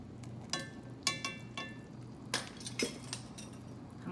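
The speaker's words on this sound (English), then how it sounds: "I'm going to stir that just a little bit." Light clinks of a spoon against a pot while walnuts and vanilla flavoring are stirred together, a few sharp scattered taps over a low steady background hum, no talking.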